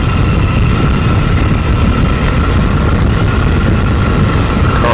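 Flexwing microlight aircraft engine drones steadily and loudly in flight while descending toward an 800-foot circuit height, a continuous close engine and propeller roar with wind rush and no talk.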